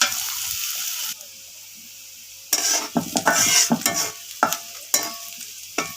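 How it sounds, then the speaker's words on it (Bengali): Chopped onion and garlic frying in hot oil, a steady hiss that drops back, then bursts of spoon scraping and stirring with clattering against the pot. "তেল গরম হওয়ার পর দিয়ে দিলাম পেঁয়াজ কুচি এবং রসুন কুচি। এগুলোকে ভালো করে একদম লাল করে ভেজে নিতে হবে।"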